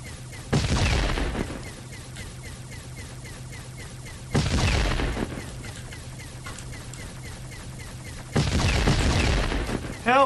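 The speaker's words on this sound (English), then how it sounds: "The explosions are so loud and the gun sounds are so quiet." Explosions in the video game War Machine: three loud booming blasts spaced about four seconds apart, each decaying into rumble, over a steady low hum and faint repeated ticking gunfire between them.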